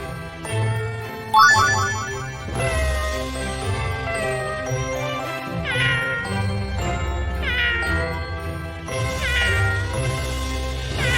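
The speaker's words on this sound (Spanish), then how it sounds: "Gato." Cartoon cat meows repeatedly in a children's animal-sounds animation, bright sustained mews over a light musical backing with chimes and tinkling tones, no talking.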